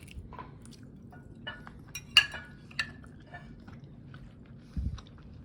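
Someone chews a bite of steak topped with compound butter, with soft close mouth sounds and a few faint clinks of cutlery or plates. There is no talking.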